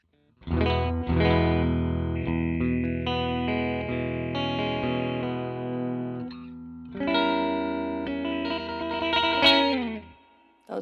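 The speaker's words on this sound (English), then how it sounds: "it sounds like what it's supposed to. Slow Leslie." Sustained keyboard chords pass through the Slow Leslie rotary-speaker effect of the MoogerFooger plugin in Studio One, with a gentle swirling modulation and a little distortion. There are two phrases with a short pause between them, and the sound is fairly loud.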